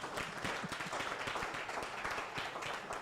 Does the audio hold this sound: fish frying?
no